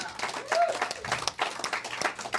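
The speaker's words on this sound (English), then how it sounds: "let's give Sylvia another round of applause" An audience at a Sunday service applauds a performer, with scattered claps mixed with talking and crowd murmur throughout the short stretch.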